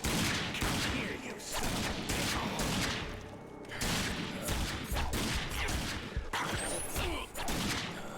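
Dense, continuous gunfire from the id Software shooter RAGE rolls on for eight seconds as a rapid fusillade of overlapping shots and crashes, loud and sustained with only brief dips.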